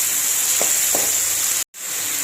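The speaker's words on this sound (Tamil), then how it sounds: "இதே நல்லா சின்ன வெங்காயத்தோட நல்லா வதக்கணும்." Shallots and tomatoes sautéing in a pan for a village-style fish curry, a loud, steady close sizzle with a couple of faint clicks, broken by a sudden brief silence before the frying hiss resumes.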